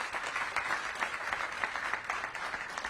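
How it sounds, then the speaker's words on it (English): Audience applause for a woman-owned consulting company owner at a DC mayoral event, a steady wash of clapping throughout at moderate level. "So give Medea a big round of applause."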